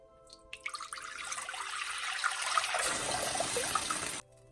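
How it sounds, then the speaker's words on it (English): Water pours steadily into a pot for a few seconds, a rushing splash that deepens as it fills, then stops abruptly. "I am gonna add my water right away."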